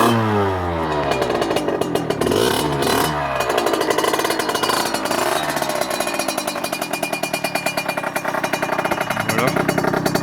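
A motorcycle engine runs loud and close, a steady rough, pulsing idle with a rapid throbbing rhythm that briefly swells in revs near the start, then holds evenly for about ten seconds.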